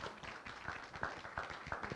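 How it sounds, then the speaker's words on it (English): A church congregation claps in welcome during a Sunday night service, a soft, fairly distant patter of many hands in a loose steady rhythm lasting about two seconds. "would you give them a warm welcome and a hand clap for them coming?"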